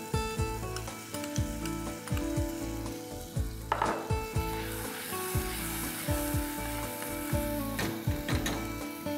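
Ground paste of coconut, onion, coriander powder and mixed masala fries in hot oil, a close steady sizzle broken by repeated sharp spoon clicks and scrapes against the pan.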